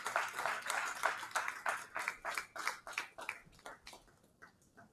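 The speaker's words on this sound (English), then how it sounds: "it's only the persons on the front row that have been clapping" Sparse clapping from a few people in the front row of a conference hall at an education stakeholder roundtable, a thin patter of hands that fades out after several seconds.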